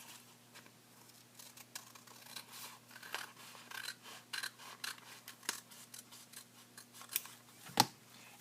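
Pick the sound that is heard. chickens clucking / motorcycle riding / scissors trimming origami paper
scissors trimming origami paper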